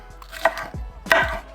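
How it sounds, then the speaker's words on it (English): A knife chops bell pepper on a cutting board with two crisp, close thuds against the board, cleanly spaced with no talking. "I'll start with chopping some bell pepper"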